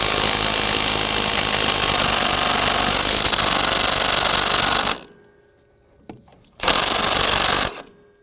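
A Kobalt 24-volt brushless mid-torque 1/2-inch cordless impact wrench hammers at a tightly fastened nut, loud and close, in a long continuous burst, then a pause with a click, then a second shorter burst.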